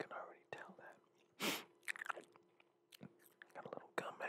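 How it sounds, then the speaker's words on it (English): Gum is chewed close to the mic with wet, smacking, irregular bites and clicks, quiet and intimate, with soft whispered talk mixed in between the chews. "I forgot to mention, got some chewing gum,"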